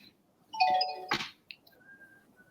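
A doorbell chime being tested at the start of an online class session. A single clear ding-dong rings out, moderately faint, followed by quiet with a faint lingering tone.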